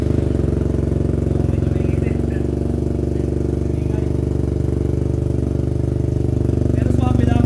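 A 2023 Yamaha TMAX 560 scooter fitted with a Malossi full system exhaust idles nearby in a loud, even, deep rumble that holds steady throughout.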